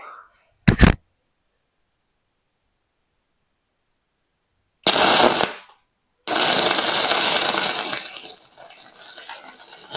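Arc welding on DC electrode positive with a DP 200 welder, working on rear suspension shackle brackets of a 1945 International K3 truck: short sharp bursts, then a sustained loud crackling buzz that tapers toward a fainter sputter.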